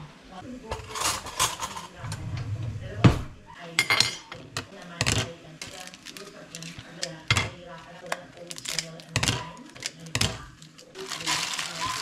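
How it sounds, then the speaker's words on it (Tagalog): Cooking at home in a pot, an added ingredient is stirred in with a utensil, giving repeated sharp metallic clinks and scrapes against the pot at an irregular rhythm, fairly close, with some quiet background noise. "Ihalo ko muna siya dyan sa aking niluluto."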